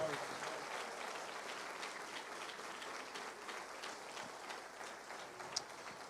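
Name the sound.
congregation applauding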